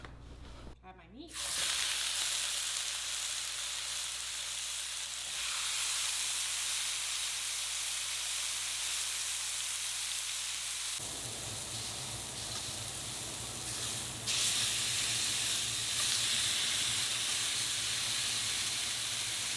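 Carne asada sizzling in a hot pan for Mexican gorditas, a steady broadband hiss that swells louder partway through as more meat hits the pan, close and continuous with no talk over it.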